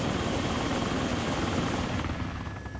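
Loud, steady rotor and engine roar of a V-22 Osprey tiltrotor in the Arma 2 video game, passing close overhead and fading slightly near the end.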